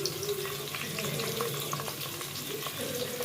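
Onion and tomato with salt frying in a pan for a quick vegetable pulao, giving a steady, dense sizzle that runs unbroken from start to finish at moderate loudness.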